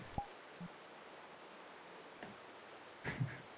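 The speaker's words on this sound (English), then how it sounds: "Please, it's raining." Faint, steady rain patters softly in the background, with a few brief knocks and a louder rustle near the end.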